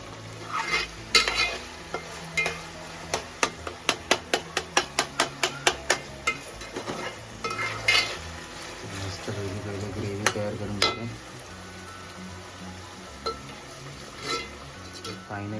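Tomatoes tossed into a hot pan on a wood-fired stove, with a run of rapid metal spoon-on-pan clatters while stirring, followed by a steady close sizzle of frying.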